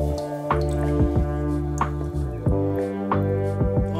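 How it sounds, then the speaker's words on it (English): Water drips and squishes into a toy pirate ship floating in water, with repeated wet plops and gurgles roughly every half second over a steady resonant tone, close and moderately loud. "Oh no, water's entering into the boat."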